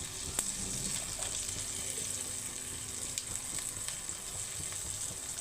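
Garlic cloves frying in hot oil in a pan for gongura chutney, a steady close hiss and crackle with small pops scattered throughout.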